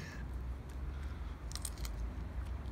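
A crisp, crunchy bite into raw pumpkin, a few close crackling crunches over a steady low background rumble.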